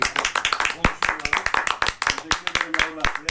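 Clapping from a small gathering during a televised talk, distinct sharp handclaps in a quick uneven rhythm, close and fairly loud, with a voice talking over them.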